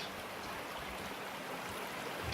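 Water pours steadily into a bucket in the Gold Rush video game set in Alaska, a continuous close rushing splash lasting the whole moment with no talk.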